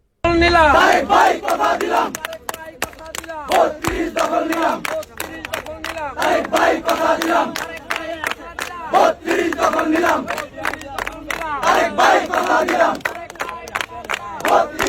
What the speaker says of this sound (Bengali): ধানমন্ডি বত্রিশ নম্বরে বিএনপির স্লোগান শুনছিলেন আপনারা